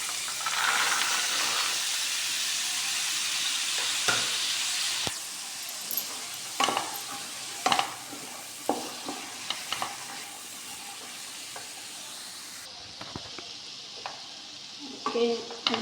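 Cowpeas (alasande) tossed into a frying tomato masala, a loud steady sizzle with repeated spoon scrapes and taps on the pan throughout.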